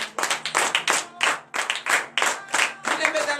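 A church congregation at a morning prayer service claps in acclamation, a rhythmic series of loud, close hand claps in steady bursts.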